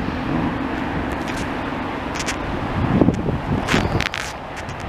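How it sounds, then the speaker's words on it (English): Gusty wind buffets the microphone beside a road in the greater Montreal area, a steady low rumble with louder bursts of buffeting near the end, no talk. "I'm gonna tell you guys right away, it's really windy today"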